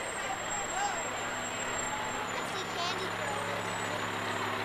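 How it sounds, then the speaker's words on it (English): Stockton fire company vehicles, including a 2010 International pumper and a heavy rescue truck, roll past in a Fourth of July parade as a steady, loud diesel rumble, with someone talking over it throughout. "Some of the Stockton vehicles headed by, they've got their 2010 International Pumper, also the heavy rescue vehicle"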